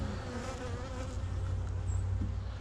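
Honey bees buzz inside a hive, a dense, continuous drone of many wings holding steady throughout with a slight swell near the end.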